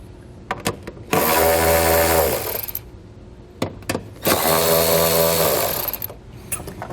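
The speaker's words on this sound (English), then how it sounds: "We're going to take an 8mm socket. We're going to remove this nut, and this nut." Nuts come off a 2013 BMW X5 with an 8mm socket on a power tool, heard as two loud, sustained whirring bursts of about one and a half seconds each, separated by light clicks and taps of handling.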